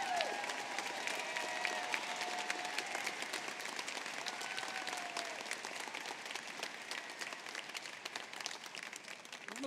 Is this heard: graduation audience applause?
yes